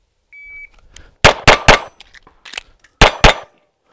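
Pistol shots ring off a static steel target in a shooting drill: two pairs of sharp, loud cracks with bright metallic clangs, a brief pause between pairs, preceded by a short electronic timer beep.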